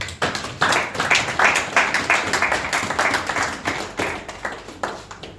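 A church congregation claps and applauds in praise during a sermon, a steady, dense patter of many hands close and loud throughout, with a faint voice or two mixed in.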